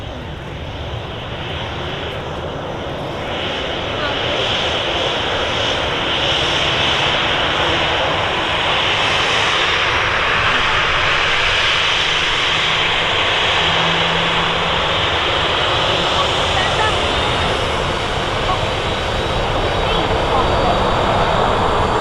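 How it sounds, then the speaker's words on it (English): A Ryanair Boeing 737 jet rolls along a rapid exit taxiway at Manchester Airport, its engines giving a steady broad roar that builds after a few seconds and holds, with someone talking intermittently over it. "Ryanair 737 just on the rapid exit taxiway there."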